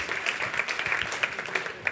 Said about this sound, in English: Give yourself a big round of applause for listening in.